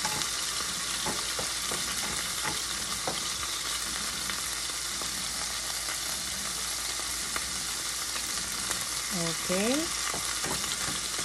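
Garlic frying in a pan for adobong kangkong crackles with a loud, continuous close sizzle, broken by occasional spatula scrapes and stirs, while a voice speaks briefly near the end.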